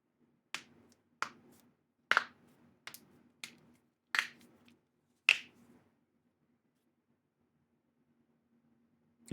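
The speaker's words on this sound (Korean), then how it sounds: "이 뼈 푸는 소리 말인데 굉장히 시원하지 않나?" Seven sharp cracking pops in an irregular rhythm, loud and close, followed by a stretch of near silence. The dry, snappy clicks fit joints or bones being cracked, with no talking.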